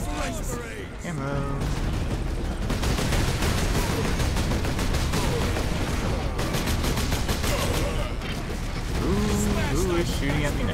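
Dense, continuous gunfire and explosions fill a Space Marine battle, with rapid bursts and booms stacked into an unbroken wall of combat noise, loud and close throughout, while a voice speaks over the din.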